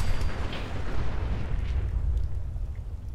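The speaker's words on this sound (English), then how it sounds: "I'm using the mini nuke way too many times." A mini nuke detonating in Fallout 4, a deep rumbling explosion that rolls on as a sustained low roar and slowly fades, moderately loud with no voices.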